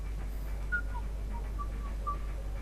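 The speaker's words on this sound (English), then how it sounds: "Are you whistling?" Soft whistling of a short, wandering tune in the video game Mass Effect 3, faint and breathy over a low steady hum, with no talk.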